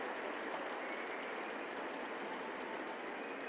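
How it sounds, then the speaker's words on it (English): Steady, dense crowd applause at a dressage Grand Prix arena, continuous clapping from many hands heard from a distance, with no pauses. "Big, big applause from the crowd."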